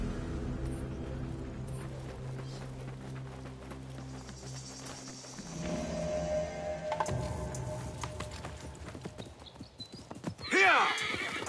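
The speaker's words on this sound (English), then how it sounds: "I prepared the horses." Horses in the video game Assassin's Creed Mirage clop along at a trot with steady hoofbeats over ambient sound, ending in a loud, close neigh near the finish.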